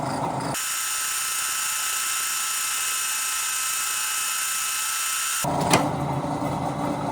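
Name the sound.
machining a keyway into a Colt crankshaft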